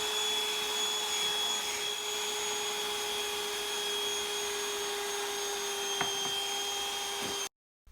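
An electric hand mixer beats sugar, added a quarter cup at a time, into Mississippi mud cake batter with a steady whirring drone close up. A brief knock comes near the end before it cuts off.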